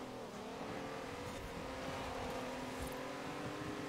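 Race car engines in Forza Horizon 4 during an online race drone steadily throughout, a continuous mid-loud engine tone with slight revving and no pauses.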